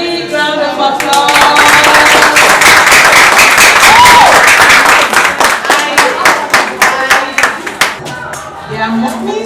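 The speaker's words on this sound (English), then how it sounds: "I want to get a big round of applause." An audience at a Lions club literacy day event breaks into a long round of applause, loud dense clapping that thins into scattered claps toward the end, with voices mixed in.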